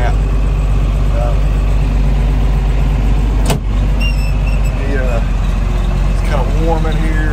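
A tractor engine runs at a steady idle inside the cab on a cold day during hay baling, a constant low drone with a brief clunk midway.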